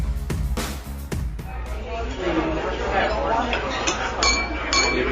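Glasses clink together in a toast on a restaurant brokers' radio show, several bright chinks ringing out at the start, followed by a steady hum of restaurant chatter and scattered cutlery and dish clatter.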